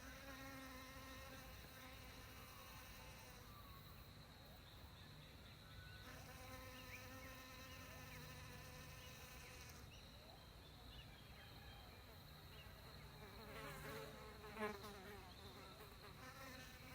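Bees buzz around dahlias in a garden, a steady, faint hum of wings that drifts closer and away with no voices.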